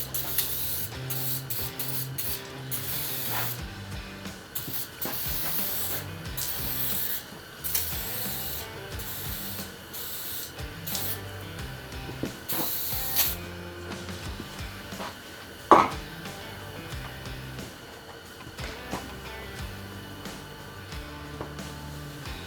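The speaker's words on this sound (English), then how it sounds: "You can take a terry cloth towel and just buff it off" A terry cloth towel buffs bare metal woodworking machine tops in quiet, close rubbing and wiping strokes, with soft scuffs and occasional light clunks.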